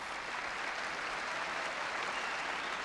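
A crowd cheers and applauds steadily at a 1974 All England men's singles badminton final, a dense, even roar of clapping and voices with no break across the whole stretch.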